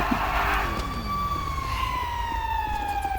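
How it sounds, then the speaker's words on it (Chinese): A fire truck siren in the video game GTA RP wails, its tone sliding steadily downward, moderately loud over a low background rumble. "哦，这消防车真的是。"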